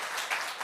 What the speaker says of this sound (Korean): 우리 박수로 한번 경례하겠습니다.